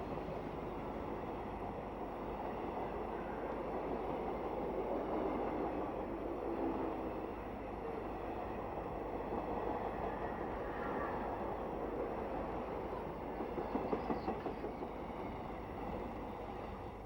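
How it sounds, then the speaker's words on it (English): South African Class 19D steam locomotive 3323 piloting 3016, powering through El Dorado with a heavily laden train, a steady heavy rumble and rolling rail noise that stays loud and continuous throughout, with no voices. "3016, piloted by 19D 3323, powers through El Dorado with a well-laden train."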